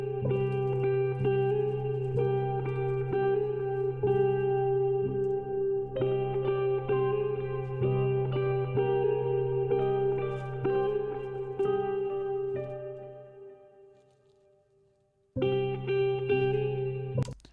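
A sustained, wet electric guitar pattern washed in heavy reverb and echo, notes blurring into a long shimmering tail that briefly fades before the part returns.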